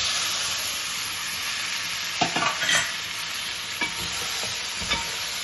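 Marinated fish, coated in ginger and oil, frying in a hot tempering while being stirred, giving a steady close sizzle with a few sharper scraping stirs of the spoon through the pan.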